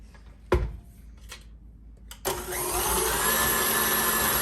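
An electric hand mixer creams butter, sugar and egg for a sorrel fruit cake, a couple of sharp knocks against the bowl first, then a steady loud whirring drone that starts and holds to the end.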